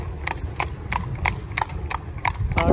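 Horse hooves clip-clop on a wet road along a high street with passing traffic: an even, steady walking rhythm of crisp, close hoof strikes over a low rumble of background noise.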